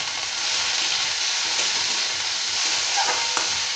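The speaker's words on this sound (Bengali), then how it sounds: "পেঁয়াজটা ভাজা ভাজা হয়ে গেছে। এরপর আমি দিয়ে দেবো একটা ছোট টমেটো কুচি করে রাখা।" Onion and chopped tomato fry in a pan with a steady close sizzle and hiss, broken by a few light stirring scrapes and small pops, no voices.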